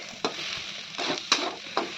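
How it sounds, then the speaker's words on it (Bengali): Taro stolons and prawns are stirred as they fry, making a soft steady sizzle with several scraping stirs at irregular intervals, close and fairly quiet. "একটু ভালো করে নাড়িয়ে চাড়িয়ে নামিয়ে নেবো"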